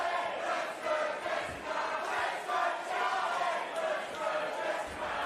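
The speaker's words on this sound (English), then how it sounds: "They're both getting cheers from the crowd." A wrestling crowd at a Pro Wrestling Australia cage event roars and cheers in continuous swells, a dense, loud wash of many voices with no single speaker standing out.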